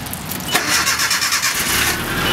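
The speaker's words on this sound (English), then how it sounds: "Fires right up that new fuel pump." A Nissan D21 pickup truck with a new fuel pump cranks briefly and fires right up, settling into a loud, close, steady idle rumble.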